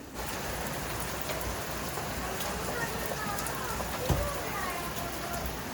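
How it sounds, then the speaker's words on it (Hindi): Heavy rain pours down in a dense, unbroken hiss, steady and loud throughout with scattered drop impacts and no clear voices over it. "अभी स्टार्ट किया ही था कि बारिश इतनी तेज़ होने लग गई।"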